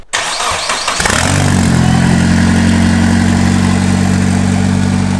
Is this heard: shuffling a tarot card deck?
no